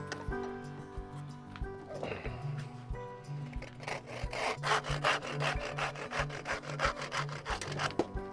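A hand saw cuts vertically down through a piece of wood clamped in a vise, with steady rhythmic back-and-forth rasping strokes that grow louder and faster, heard close and alone.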